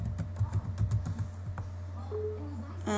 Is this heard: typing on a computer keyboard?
yes